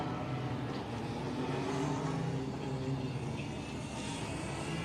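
Formula Student race cars pass on a competition track with a steady, fairly distant engine roar.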